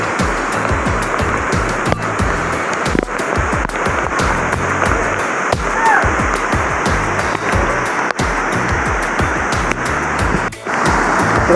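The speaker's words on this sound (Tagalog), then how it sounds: "Ang lakas ng ulan." Heavy rain pours during a mountain hike on Mt. Romelo, a dense, loud, continuous hiss and patter with scattered thuds and drips, with no talking.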